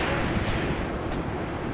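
Gunfire in a WW2 North African battle video game, a shot aimed at an enemy officer, sounds as a dense, loud, sustained roar of distant artillery and rifle fire with a couple of sharper cracks rising out of it.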